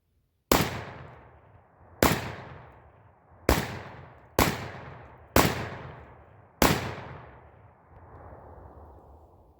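Six loud, sharp shotgun blasts from a Panzer EG200 firing buckshot, spaced irregularly about a second apart, each with a decaying echo, and a softer mechanical tail after the last shot.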